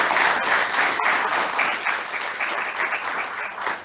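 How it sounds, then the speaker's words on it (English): Steady, full applause from a school audience at an annual day ceremony honouring a student's exam rank, many hands clapping evenly throughout with no talk. "let's give her a big round of applause"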